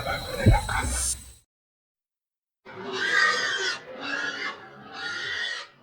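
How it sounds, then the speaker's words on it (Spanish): Pig grunts and squeals from a stable: three loud, rough bursts follow a short voice-like sound and a pause of silence, close and prominent. "El puerco del establo."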